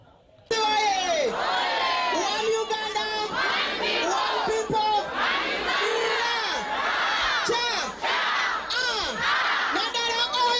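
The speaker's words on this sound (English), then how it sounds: "The FDC presidential candidate was welcomed by jubilant crowds in Sironko district" A jubilant crowd of supporters cheers, shouts and chants at a presidential campaign rally in Sironko district, a dense, continuous roar of many voices with whoops rising and falling throughout.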